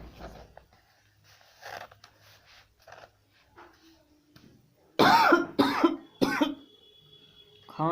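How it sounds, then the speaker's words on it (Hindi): After quiet rustling, a person coughs loudly several times in quick, harsh bursts close by, followed by a softer clearing of the throat. "खांसी को भी भैया आना होता है।"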